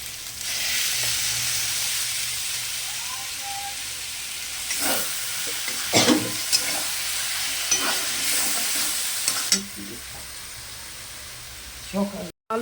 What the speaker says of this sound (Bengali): ভাজা ভাজা হয়ে গেছে, এখন আমি পোস্তটা দিয়ে দিচ্ছি